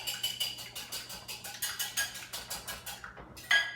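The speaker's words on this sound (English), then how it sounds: "take a nice farm fresh egg, whisk it up" A farm fresh egg whisked in a bowl with quick, even strokes, a steady ticking rhythm of about four beats per second, close and fairly quiet, ending with a brighter clink against the bowl.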